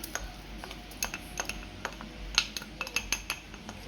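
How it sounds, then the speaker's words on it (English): Ginger and grated coconut being stirred in a pot for Jamaican coconut drops, heard as a close run of light, irregular spoon clinks and taps against the pot over a quiet background. "just going to mix this around"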